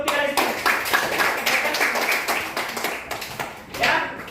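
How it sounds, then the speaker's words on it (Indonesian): A classroom of students claps for a student group in a math lesson, with a rhythmic, fairly close series of sharp hand claps that thins out and then briefly picks up again near the end. "Oke, tepuk tangan untuk kelompok 3 di sini."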